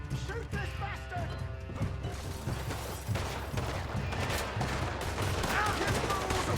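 Gunfire in a Red Dead Redemption 2 shootout: irregular shots and crashing impacts rattle through the fight, with characters shouting over the noise.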